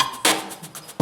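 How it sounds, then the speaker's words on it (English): Retro 8-bit drum samples from an indie game soundtrack kit: a few short, punchy crunchy hits with noisy snare-like bursts, close and fairly loud, heard alone. "we downloaded some retro 8-bit drums and used them as a part of our drum kit"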